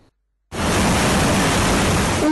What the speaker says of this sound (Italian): Un fiume che ha travolto Moena lasciandosi alle spalle fango e danni.